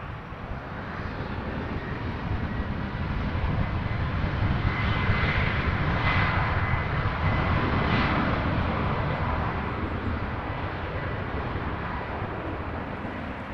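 An Airbus A350-900 jet roars steadily at Toronto Pearson Airport, a loud, sustained engine rumble that swells through the middle and eases slightly toward the end, with no voices.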